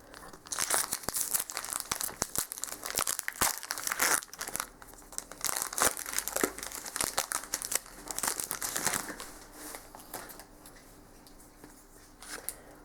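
Crinkling and tearing of foil wrapping as a Pokemon TCG XY Flashfire booster pack is opened, steady close rustling and crunching with sharp tears throughout, no talking.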